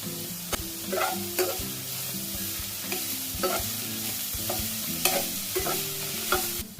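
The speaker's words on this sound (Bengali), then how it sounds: "সবজিটা দেখো ভাজা হয়ে এসছে।" Vegetables stir-frying for fried rice sizzle in a pan, with regular scraping and clanking strokes of a spatula close by and no talking.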